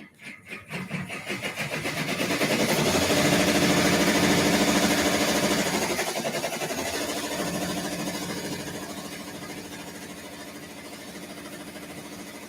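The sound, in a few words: serger sewing knit fabric for leggings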